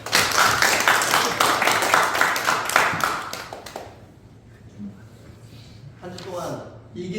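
Church congregation claps during a worship service, a loud dense round of hand clapping for nearly four seconds that stops abruptly, followed by quiet and then a voice speaking.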